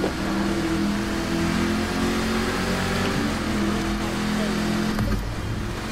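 Hummer driving in The Crew 2, a steady loud engine drone with tyre and road noise throughout, a brief shift near the end, and no clear talking over it.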